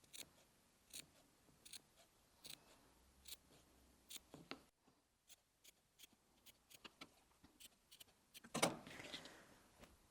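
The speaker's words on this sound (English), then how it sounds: "I'm just going to do some little snips around the curve so that we get a nice curve to our heart." Scissors snip fabric around a curve while sewing a heart-shaped cushion, giving a string of quick, faint, close cuts in irregular rhythm with a brief rustle near the end and no talking.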